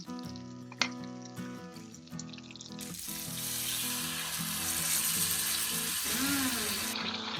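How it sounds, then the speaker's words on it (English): Fresh squeezed orange juice hits a hot pan with seared salmon, bursting into a loud, steady sizzle that fills the close sound after a few quieter kitchen clinks and music. "And add fresh squeezed orange juice into the pan."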